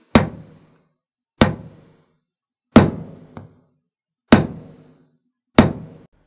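A hammer strikes a metal stamp to hand-stamp jewelry, giving five sharp, loud, evenly spaced hits about a second apart, each ringing briefly, with one small rebound tap.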